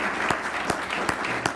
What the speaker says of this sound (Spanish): ¿Cuántos le quieren dar un buen aplauso al Señor por su palabra, hermano?